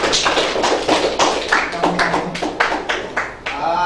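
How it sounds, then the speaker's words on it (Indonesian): A classroom group claps for a student, a dense, steady patter of many hands that continues without a break, close and fairly loud. "Kita tepuk tangan buat yang"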